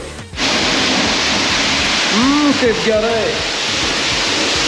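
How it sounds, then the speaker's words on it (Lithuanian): A high-pressure water rinse at a self-service car wash roars as a loud, steady hiss of spray, with a person speaking briefly over it midway. "Einam toliau, skalavimas aukštų slėgių."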